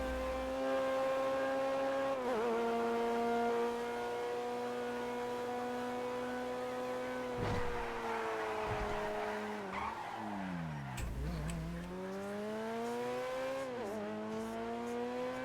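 Engine of a Ferrari Italia in a video game, revving steadily with rising and falling tones and tyre squeals from skids partway through, loud and continuous with no talking.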